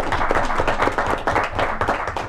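Round of applause in a city council chamber during an evening public hearing, a short burst of clapping from a modest crowd with a muffled, roomy quality, some hands louder and closer than others.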